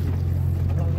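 Ferry boat crossing to Majuli, a steady low engine drone with a strong hum and wind noise throughout, the motor constant and close.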